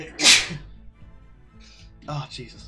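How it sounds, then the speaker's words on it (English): A single sharp, loud sneeze bursts out near the start, followed by a quiet background and a man's brief spoken reaction afterward. "Oh, I've got a sneeze coming."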